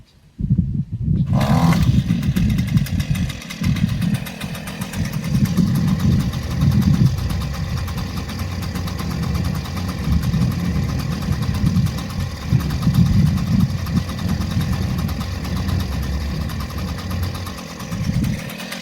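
After a brief quiet moment, a weedeater string trimmer's small two-stroke engine fires up and runs loudly up close for the rest of the time, its revs wavering slightly while it is used to till a garden.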